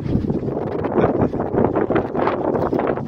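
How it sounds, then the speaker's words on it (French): A cool wind blows outdoors near Narbonne, buffeting the microphone with a steady, rumbling low roar and gusty fluctuations throughout. "il y a un petit vent frais"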